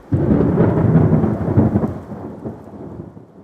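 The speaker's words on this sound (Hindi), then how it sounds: "मुंबई की वो रात जब तेज आंधी और बारिश से खिड़कियों के खड़कने की आवाज पूरे कमरे में गूंज रही थी।" Thunderstorm with heavy rain on a stormy Mumbai night, used as an audio drama effect: a loud, close rumble of thunder rolling over steady rain, fading slowly toward the end with no voices.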